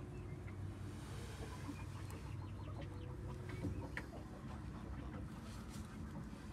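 A broody hen clucks low and faint among the hens in a coop. Soft, scattered clucks sit over a constant low background rumble with no speech.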